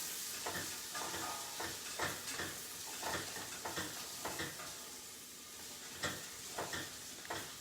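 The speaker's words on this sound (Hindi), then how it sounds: "थोड़ा गार्लिक, और इसको थोड़ा सा हम भूनेंगे" Garlic and ginger sautéing in a little oil over medium heat, a steady close sizzle with repeated spoon scrapes and stirring taps against the pan.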